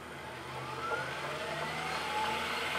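A Tesla electric motor spins forward on a test stand, giving a steady whine that climbs in pitch over a low hum, close and fairly quiet.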